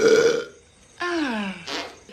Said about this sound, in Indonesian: Lalu bersendawa sembarangan